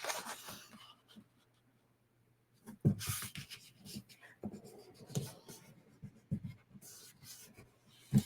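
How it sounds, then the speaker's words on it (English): A paper card base is folded in half by hand, giving soft rubs, crinkles and sharp creasing scrapes in scattered bursts, close and quiet, separated by stretches of near silence. "let's fold our card base in half"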